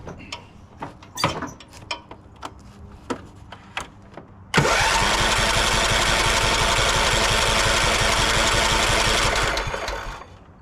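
An engine with no fuel in the pump cranks continuously for about five seconds without firing, a loud rhythmic whirring churn that follows a few scattered clicks and knocks and then winds down.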